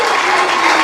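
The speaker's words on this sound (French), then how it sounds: "j'aimerais que nous donnions des acclamations au général" An audience bursts into dense, loud applause at a rank promotion ceremony for military chaplains in Chad, a brief burst of many hands clapping together.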